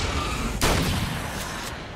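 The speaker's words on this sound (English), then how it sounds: "Still use my shotgun." A shotgun fires once in the video game American Nightmare 5, a sharp broadband blast partway through, trailed by a brief echo over steady game ambience.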